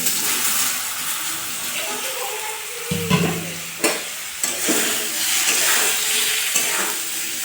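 Raw jackfruit pieces with turmeric sizzle steadily in hot oil, with intermittent scraping and stirring knocks from a utensil close up.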